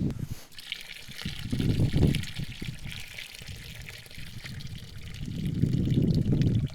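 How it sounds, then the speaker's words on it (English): Pasta water is poured off through a strainer while making vegan spaghetti bolognese, giving a steady splashing, trickling flow that swells, eases off, and then surges again near the end, with no talk over it. "I'm going to strain out our pasta here"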